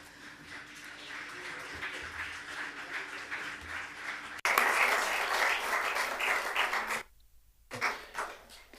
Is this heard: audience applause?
yes